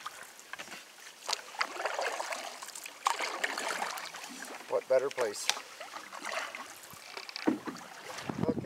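A canoe glides down a river as a paddle dips in uneven strokes, giving soft splashes and trickles against light wind noise, while a man chats close by.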